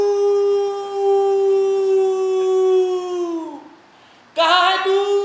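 A voice imitates stray dogs howling in the street at night, drawing out one long, loud, wavering howl that slides downward and fades. A brief pause follows, then a sharp, higher howl bursts in.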